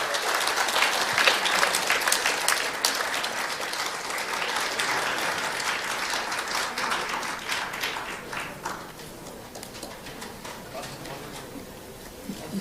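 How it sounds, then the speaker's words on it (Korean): A crowd at a political party convention gives loud sustained applause to welcome a presidential nominee, dense clapping that slowly thins and fades toward the end. "큰 박수로 환영해 주십시오."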